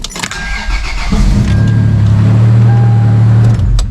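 A first-generation Toyota Tacoma pickup is started with the clutch pressed in: the starter cranks briefly, then the engine catches and settles into a loud, steady idle close by.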